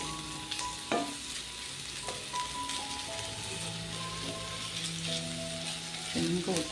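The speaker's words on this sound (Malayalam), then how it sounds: "ചതച്ച് വെച്ച ഇഞ്ചി, വെളുത്തുള്ളി ഇട്ട് കൊടുത്തിട്ടുണ്ട്. ഒന്ന് നമുക്ക് വഴറ്റി എടുക്കാം." Crushed ginger and garlic sautéing in a pan on the stove, a soft continuous sizzle with occasional scrapes and clinks of a spoon, moderately quiet with no talk.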